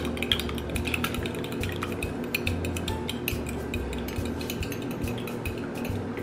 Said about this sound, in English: So now I'm gonna whisk that shit up.